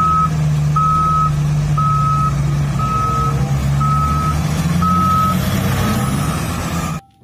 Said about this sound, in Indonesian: Wow, lihat, ada beko eksavator teman-teman.